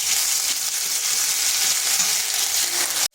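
Ground spice paste fries in hot oil on low heat for a palak and dal dish, giving a steady, close, bright sizzling crackle with no talking.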